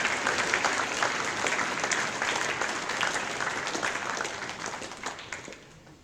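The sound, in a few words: school assembly applause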